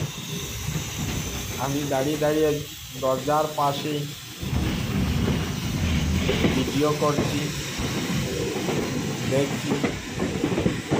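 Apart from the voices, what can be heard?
Guwahati Silchar special train moving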